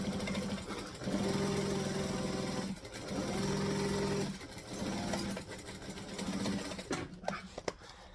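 A sewing machine stitches bag fabric with foam in several bursts of steady humming, stopping and starting between runs, moderately quiet and close, ending with a few small clicks.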